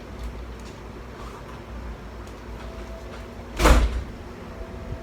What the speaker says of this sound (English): She closed the door.